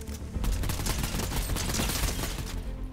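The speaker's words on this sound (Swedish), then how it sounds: "Det skjuter här framåt" Rapid bursts of Fortnite gunfire crackle in quick succession, a dense rattling fusillade that continues throughout at moderate loudness.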